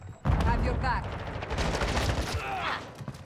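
Expedite 12 shotgun firing in Call of Duty MWII multiplayer, a burst of loud close gunfire blasts over game noise, with someone talking in Thai throughout.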